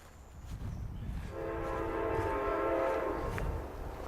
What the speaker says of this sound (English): Yeah, there's lots of trains in the Centralia area.